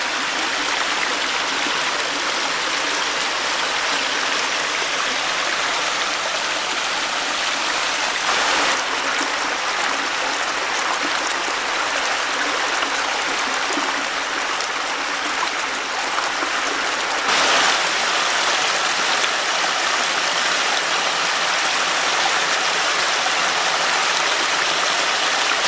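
A small shallow stream flowing along a nature trail at low water, a close, loud and constant rushing burble with no pauses and no voices.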